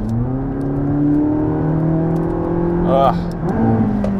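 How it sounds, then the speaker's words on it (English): McLaren 675LT engine set to track mode hums with a steady droning note from inside the car, swelling briefly as the revs climb near the end. "set the engine to track, and suddenly that engine note, which is kind of droning and annoying in town,"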